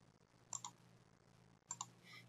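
Two quiet pairs of computer mouse clicks, close and crisp, spaced about a second apart over a low electrical hum.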